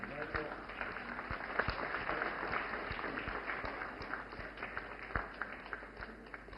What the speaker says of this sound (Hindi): जोरदार तालियों से स्वागत करें हमारी नमो ड्रोन दीदी का